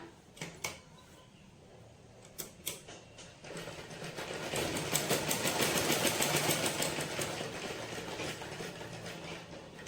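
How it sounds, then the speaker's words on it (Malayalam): An embroidery sewing machine stitches a second layer beside the first, a few clicks at the start, then a steady, close mechanical whirring that builds and holds, with no speech. "നമ്മൾ ഫസ്റ്റ് സ്റ്റിച്ച് ചെയ്തതിന്റെ അടുത്ത് വെച്ചിട്ട് തന്നെ ഇതേപോലെ സ്റ്റിച്ച് ചെയ്യാം."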